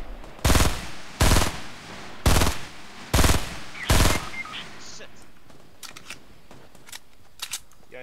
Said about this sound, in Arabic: اطلق عليه